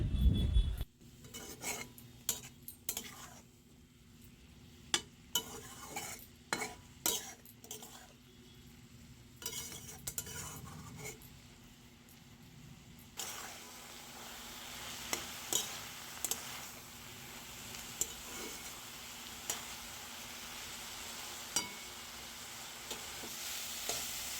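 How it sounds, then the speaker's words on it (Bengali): Water spinach (kolmi shaak) stir-frying in a pan with two green chilies: a steady soft sizzle runs under repeated scraping and clinking strokes of a spatula, louder and brighter in the second half. "শাকটা ভালো করে ভাজা হয়ে গেছে"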